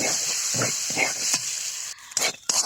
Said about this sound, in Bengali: এই ডিমটা এখন নেড়ে চেড়ে এই আলুর সাথে সুন্দরভাবে ভেজে নিই